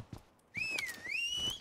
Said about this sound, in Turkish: bunlar ıslık çalıyor, atı çağırıyorlar.